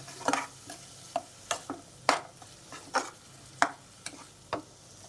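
A spice paste for egg curry is stir-fried with a splash of water, with about a dozen rhythmic, close spatula scrapes against the pan over a soft, low sizzle.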